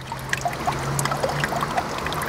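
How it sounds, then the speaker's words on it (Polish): Water drains and trickles from a handmade paper mould lifted out of a vat of pulp, a steady close patter of small drips and dribbles over a faint low hum. "Woda odcieka, natomiast na powierzchni osadziły się już włókienka."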